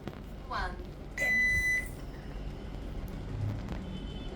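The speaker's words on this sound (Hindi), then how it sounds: "अब जैसी बीप बजेगी वैसी चालू हो जाना।" A single steady electronic beep, about half a second long and fairly loud, signals the start of a chole aloo paratha and bread eating challenge. It stands out over room noise, with brief voices nearby.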